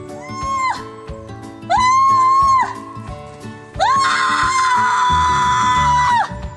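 A person imitates a red fox call with three drawn-out, high-pitched screaming shrieks, the last and longest one loud and wavering, over a busy background of other sounds.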